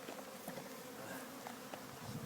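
Honeybees buzzing around a hive being installed, a faint, steady low hum with occasional soft knocks, quiet and without speech.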